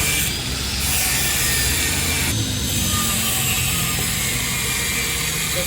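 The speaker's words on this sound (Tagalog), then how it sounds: "Naputol na tornilyo, yan. Duduputin po natin." A broken screw in an L300 Versa van is cut with a tool, giving a steady, loud, continuous grinding rasp close up with no gaps in the noise.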